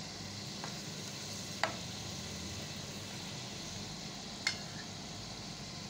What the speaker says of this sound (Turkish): Patates kızartıyorum.